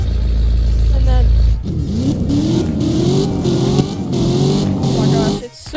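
Revving car engine in the Roblox game Driving Empire, a supercharged car: a steady loud engine drone with rising and falling pitch sweeps, the low idle giving way after a brief cut to repeated revs, with talk over it.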